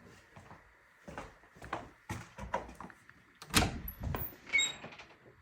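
A door in a house being handled and screwed on or off, a series of irregular knocks, clunks and scrapes, close by and moderately loud, with short pauses between them.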